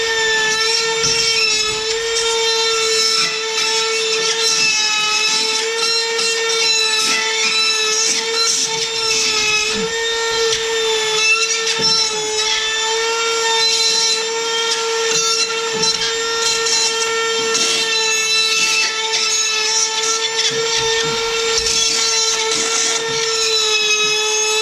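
A power tool cuts openings in bathroom drywall, its high, steady whine running continuously and loudly for the whole stretch with little change in pitch.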